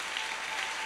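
A church congregation applauds and cheers for the Lord, a steady, dense wash of clapping filling the whole short moment with no voices standing out.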